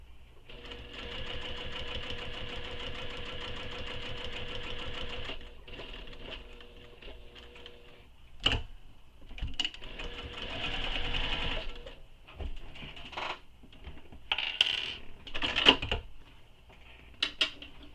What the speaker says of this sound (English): So turn the corner and continue stitching.